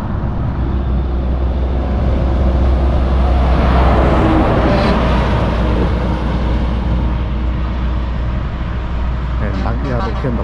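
Mack and Scania trucks passing on a highway at kilometre 542 in the afternoon, a loud rumbling roar that swells toward the middle and fades, with a voice talking over it.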